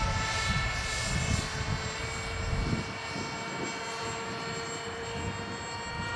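An FF-117V2 RC model airplane, about 2 pounds 8 ounces, buzzes steadily overhead in the wind, its small engine droning continuously at a moderate distance with a slight fluctuation and no talking.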